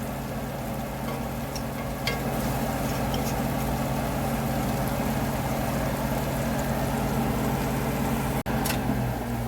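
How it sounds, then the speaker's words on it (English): A constant low whirring hum with a steady drone runs throughout, loud and close, broken only by a brief click near the end. "I'm sorry about the fan. Forgot I had it on."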